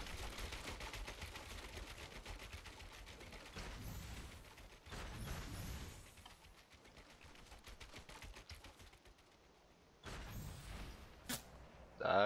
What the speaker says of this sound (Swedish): Där hörde jag skottet, ja.